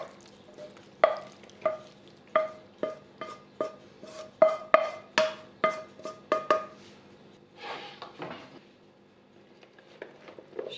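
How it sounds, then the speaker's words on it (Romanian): A spoon stirs zucchini and minced meat for a moussaka in a bowl, about a dozen crisp, evenly spaced scrapes and taps at close range, then a softer shuffling mix and a few quieter strokes. "Și amestecăm bine."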